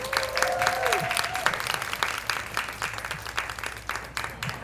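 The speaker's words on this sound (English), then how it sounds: "please join me in giving them a round of applause" Audience applause at a speed-dating mentorship social event, steady clapping filling the room for several seconds with a loud whistle near the start and voices mixed in.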